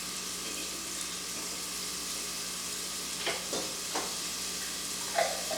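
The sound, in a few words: garlic and thyme frying in a pot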